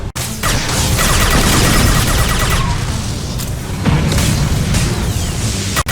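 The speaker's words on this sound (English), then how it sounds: "Explosion imminent." Loud, dense roaring blasts fill the whole stretch, a continuous rumbling explosion with crackling debris and a second surge near the end.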